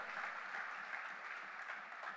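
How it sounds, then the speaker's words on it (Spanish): A church congregation bursts into steady, dense applause during a Sunday sermon, the clapping filling the room evenly and loudly for the whole stretch, with no talk on top. "Dele un fuerte aplauso"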